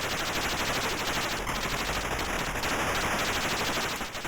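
Rapid bursts of gunfire from the Atari ST shooter Resolution 101, a dense continuous rattle of repeated shots, loud and steady throughout with no voices over it.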